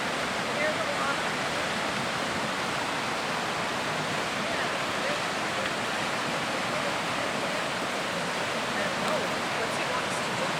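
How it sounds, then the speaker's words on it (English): Loud rushing water from a stream or falls along the Chilkoot Trail, a steady close roar that fills the whole span with no break. "I bet you're not going to hear it over that water because it's so loud."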